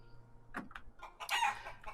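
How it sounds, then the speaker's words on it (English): Chickens cluck in the Shire in the online game LOTRO, a few close, quick clucks and squawks over a quiet background. "There we go, there's the last chicken."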